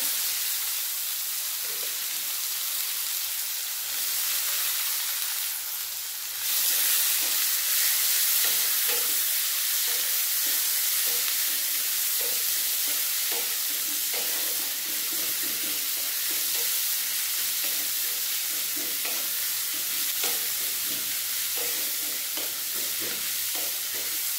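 Chopped onions sizzle in hot oil with cumin seeds, a dried chilli and bay leaf, a steady loud frying hiss broken by occasional stirring scrapes throughout.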